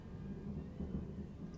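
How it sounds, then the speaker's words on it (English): Distant thunder rolls as a low, continuous rumble with faint rain in the background, quiet and steady throughout. "Can you hear that thunder?"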